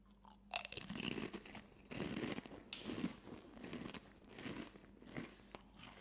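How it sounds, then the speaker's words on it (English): Someone bites into and chews a crunchy layered snack close to the mic, giving sharp crackling bites followed by a run of rhythmic crunching chews. "That shape definitely makes it extra tasty. Those layers make it extra crunchy."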